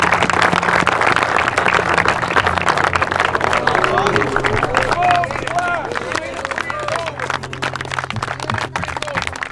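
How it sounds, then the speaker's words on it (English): Crowd applause and cheering for a champion at a large specialists' camp, likely kickers and punters, loud and sustained throughout with voices and babble mixed in. "Everybody, round of applause."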